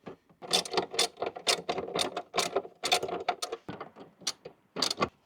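A hand ratchet clicks in rapid, uneven bursts while tightening a fitting during a battery swap on a BMW E89 Z4, the sharp metallic pawl ticking close and loud, with no speech.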